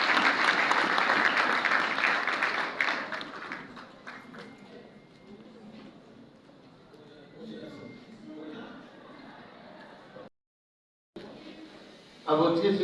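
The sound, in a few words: applause for the rector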